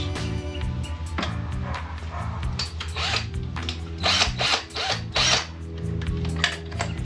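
A power drill runs on a 1973 Johnson 20 hp outboard motor, a steady whirring motor with rattling, ratcheting mechanical clatter and surging bursts, loud and close.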